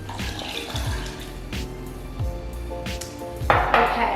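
Filtered fridge water poured into a blender jar, a soft trickling stream with light clinks of glass and a splashier burst toward the end, heard alone at close range.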